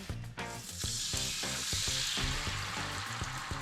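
Egg whites hit a hot, lightly smoking oiled pan and sizzle steadily for an omelette, a loud continuous frying hiss with faint rhythmic clatter underneath.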